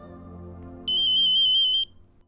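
A phone rings with one loud electronic ringtone burst lasting about a second, standing over quieter background music in a domestic TV-drama scene.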